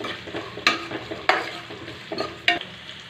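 Spices and asafoetida frying in a pan for a Tamil kuzhambu, a soft continuous sizzle broken by several sharp scrapes and knocks of a spoon stirring against the pan, close and without talk.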